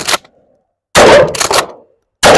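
A shotgun fires at armor from 30 meters in three loud, close blasts. A short one comes first, then a longer pair spaced about half a second apart, and a final shot begins at the end.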